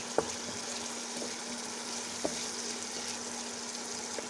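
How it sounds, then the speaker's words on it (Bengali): Turmeric, chili and cumin powders fry in a pan with a faint, even hiss. A few soft clicks from a spatula sound over the steady sizzle. "এখানে আমি হলুদ গুঁড়া, মরিচের গুঁড়া, জিরার গুঁড়া দিয়ে আবার ভালো করে কষাই নিচ্ছি"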